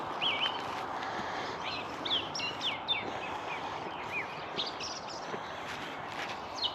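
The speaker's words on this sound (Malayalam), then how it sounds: "ആ രാവിലെ എണീറ്റ് വരുമ്പോൾ ആ പക്ഷികളുടെ ഒച്ചയും ഒക്കെ ആയിട്ടൊരു ഭയങ്കര രസമാണ് കേട്ടോ" Small birds chirp and call in scattered short bursts on a frosty winter morning in New Zealand, fairly faint over a steady outdoor hiss, with no one speaking.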